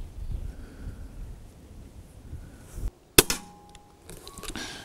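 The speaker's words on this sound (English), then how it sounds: "I'm shooting at the end of that barrel" An airgun pellet shot at the end of a barrel from about fifteen paces on a windy day: a sharp crack followed by a metallic clang, heard alone over wind noise.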